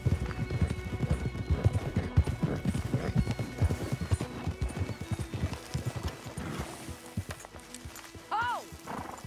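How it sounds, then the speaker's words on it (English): Horse hooves clip-clop steadily and close in Red Dead Redemption 2, with voices talking over the rhythm and a horse's rising whinny near the end. "Ditch the horses and come up with a plan."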